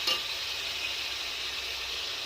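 Ginger paste hits a pan of spices being fried down for a goat curry, giving a steady, close sizzle with a brief burst at the start and no voices.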